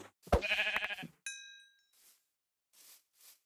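A sheep in the game Minecraft bleats loudly once, a wavering nasal cry, followed by a bright chime and a few faint soft rustles.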